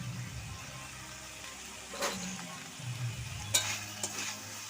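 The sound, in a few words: stirring greens with green chilies in pan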